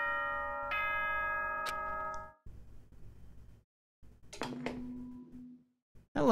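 The Danganronpa: Trigger Happy Havoc morning announcement chime rings out as sustained bell-like tones, two struck notes ringing over a soft hum, followed by quieter electronic sounds and bursts.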